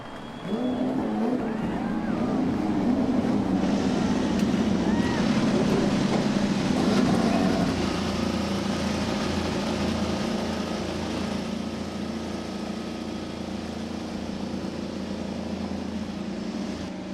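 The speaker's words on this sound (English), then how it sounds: "Drivers, start your engines!" IndyCar race car engines starting at the Houston street race, a loud continuous roar of many engines held steady for the whole stretch, with a crowd-like wash underneath.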